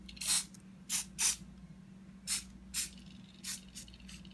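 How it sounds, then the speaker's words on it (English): A spray paint can hisses in seven short, sharp bursts with brief pauses between them, close and fairly quiet, against a low steady hum. "Before we unpeel, we have to spray paint."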